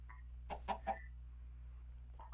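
Chickens in the Minecraft Wyrmroost mod give a few short clucks in a quick cluster, then one more cluck after a pause, faint over a low steady hum.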